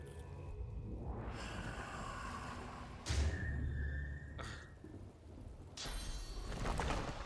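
In Divinity: Original Sin 2, a lightning strike hits with a sharp crack and deep booming thump, followed by further rumbling thunder crashes over a steady rain-like wash.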